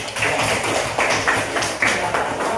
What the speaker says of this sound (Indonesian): Kasih aplaus untuk Tia